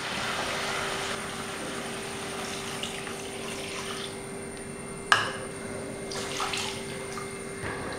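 Water pours steadily into a cooking pot while making Kerala rasam, a continuous splashing rush close by with a brief clatter partway through.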